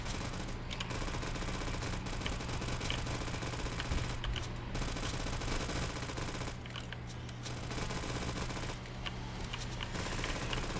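Bursts of rapid automatic fire from a CZ-75 auto pistol in the zombie shooter Zombie Uprising, several dense rattling volleys separated by short pauses over a constant game background.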